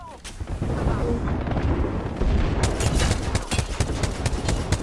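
Rapid gunfire and booming blasts in a video game battle, loud and nearly continuous, with several shots coming in quick bursts and voices faintly under the din.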